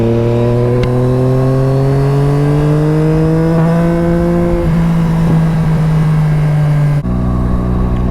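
A Yamaha Tracer 9 motorcycle with an Akrapovic exhaust, baffle removed, passes by loudly, its engine note climbing through the gears and then dropping as it goes past, close and alone.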